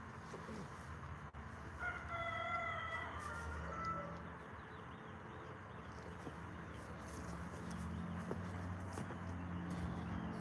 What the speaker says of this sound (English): These my oldest chickens.